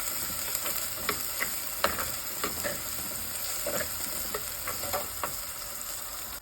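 Onions sautéing in a pan for a Kerala-style fish kulambu: a steady close sizzle with scattered sharp crackles and pops and occasional spoon-stirring scrapes, with no talking.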